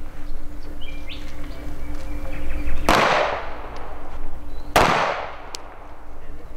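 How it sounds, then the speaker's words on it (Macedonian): Two loud pistol shots ring out a couple of seconds apart at outdoor shooting practice, each with a sharp crack and decaying echo over steady background noise and faint birdsong. "Почнете со пукање, еден истрел спуштете."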